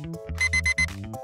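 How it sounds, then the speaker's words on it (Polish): An alarm clock rings in a series of bright repeated bursts, loud and close, over a backdrop of melodic tones. "Zamknij się, budziku."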